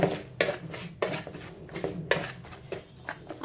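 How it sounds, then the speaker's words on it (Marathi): Brownie batter with walnuts being mixed in a bowl, giving a run of scraping, clinking strokes at an uneven, fairly quick rhythm, close and moderately loud with no voices. "हे मिक्स करून घेतोय"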